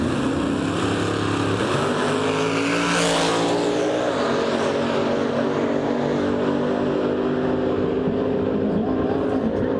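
Drag race cars launching at the strip, a Camaro pulling a giant wheel stand beside a rival, engines roaring loud and continuous with a rising pass sweeping through mid-clip, under faint crowd and announcer background.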